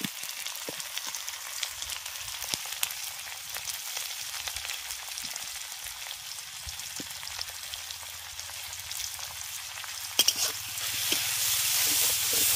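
Onion frying in fish oil in a pan while making a leafy greens chorchori, giving a steady close sizzle with scattered pops and stirring clicks that swells louder toward the end.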